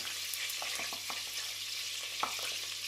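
Flour toasting in a pan for a Turkish winter soup gives a steady, soft sizzle and hiss, with a few light stirring scrapes scattered through it, close by and with no talking.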